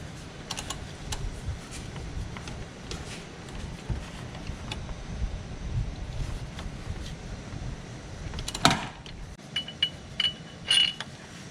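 A 19mm ratchet with an extension loosens a bracket on a Cadillac SRX engine: quiet, repeated clicking of the pawl in close irregular bursts over low workshop background, with a sharper clunk of metal near the end.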